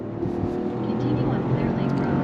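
A 2024 Buick Envista SUV accelerates on throttle, its engine droning and rising steadily from inside the cabin with road noise underneath.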